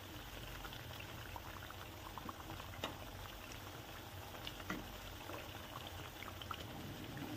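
Bajra flour snack pieces frying in hot oil, a soft continuous bubbling hiss with a few faint clicks as they are turned, quiet and close with no talking.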